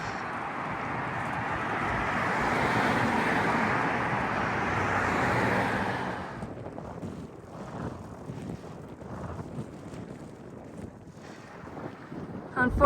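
A winter headwind buffeting a moving bicycle rider, loud rushing wind noise for about six seconds, then dropping to quieter gusty rumble with occasional louder puffs toward the end.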